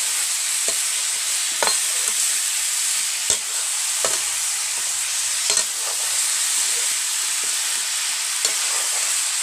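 Jackfruit and greens stirred in a small, overfull wok over a steady frying hiss, with scattered scrapes and knocks of the spatula against the pan at an irregular pace, close and alone.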